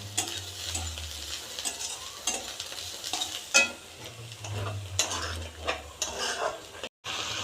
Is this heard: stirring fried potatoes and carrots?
yes